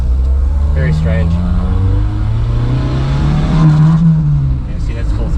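A 1981 right-hand-drive Honda Accord engine revving at full throttle, its loud, steady drone rising and falling in pitch close by, with someone talking over it.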